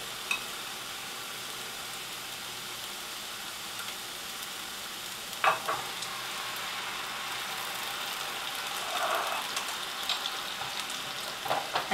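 White wine hits mushrooms frying in a pan, raising a steady, fairly quiet sizzle that carries on for several seconds with a few small pops and scrapes, and no one talking.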